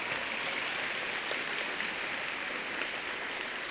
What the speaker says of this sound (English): You may applaud for him.